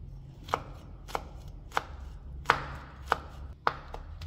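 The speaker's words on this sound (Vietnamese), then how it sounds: "Tỏi mình sẽ băm nhuyễn nhỏ nó ra như vậy và mình cho vào một cái bát con." A knife minces garlic on a cutting board in six sharp, evenly spaced strikes, close and clear over a quiet background.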